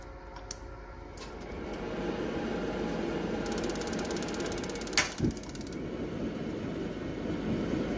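An LPG instant water heater starts up beside a constantly humming pump: a rapid buzzing, clicking train lasting about two seconds, with a soft thump partway through, close and moderately loud.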